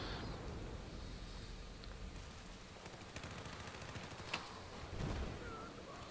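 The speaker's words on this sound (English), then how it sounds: "Why is everyone shooting me?" Battlefield 4 multiplayer battle with continuous gunfire and scattered distant shots under a dense, steady wash of combat noise, one sharper crack standing out near the end.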